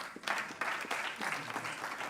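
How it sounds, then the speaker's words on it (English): An audience applauds steadily, a dense wash of clapping hands that swells after a brief dip and carries on without a break. "Another round of applause, please."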